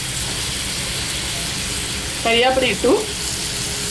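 Brinjal fries in a pan with curry leaves, giving a steady, close sizzle throughout. A short spoken word breaks in briefly midway, and the frying continues underneath.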